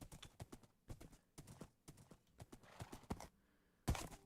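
Horse hooves clip-clopping in the Minecraft video game, a brisk run of close, distinct hoof clops in an uneven trotting rhythm, followed by a louder burst near the end.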